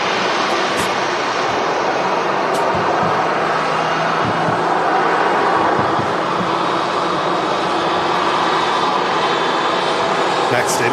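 A Qatar Airways aircraft at Manchester Airport gives off a broad steady engine roar, loud and sustained throughout, with someone talking over it.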